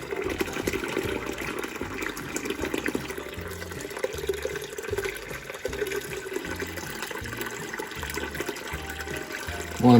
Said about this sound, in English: Now what we'll do, we'll just top it off with some water.